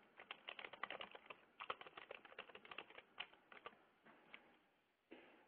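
Computer keyboard typing during an online webinar, a steady run of quick light key clicks in bursts with brief pauses, close and quiet, with no voices.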